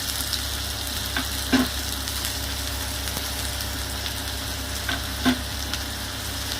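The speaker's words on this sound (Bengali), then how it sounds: "তেলটা গরম হয়ে গেছে, আমি ওর মধ্যে এগুলো দিয়ে দেবো, দিয়ে একটু হালকা লাল লাল করে ভেজে নেব" Onions fry in hot oil with a steady close sizzle, and two clear spatula knocks sound against the pan, with no voices.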